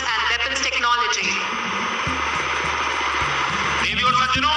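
A Kamov Ka-31 helicopter passes at a Navy Day display, its loud rotor chop and engine whine continuous under a public address announcer speaking.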